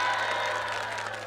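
A crowd applauds performers at a Malay Rentak Ulu show by MAN 3 students in Palembang, a continuous wash of clapping and light cheering, moderately loud and slowly tapering, with a low steady hum beneath.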